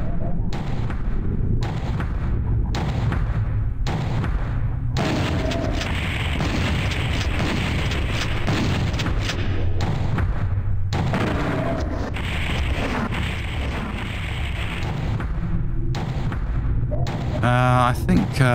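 Chaingun fire in PlayStation Doom: dense, repeated booming bursts of rapid gunfire broken by short pauses, loud and close, with a rising electronic chirp near the end.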